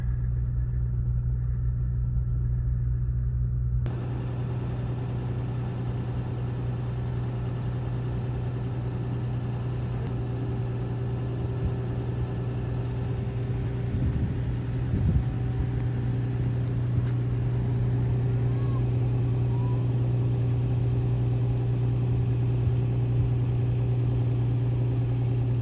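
Toyota Tacoma pickup engine humming steadily while crawling off-road on crawl control, a low continuous drone with mild mechanical whirring and occasional faint clunks from the drivetrain, heard from inside the cab without talk.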